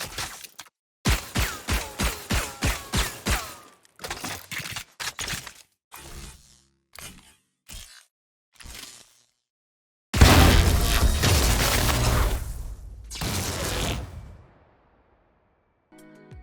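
Ghost pistol with the Magepunk skin firing in Valorant: a quick regular string of crisp shots, then scattered single shots separated by silence, followed by a louder sustained burst of effects that fades out.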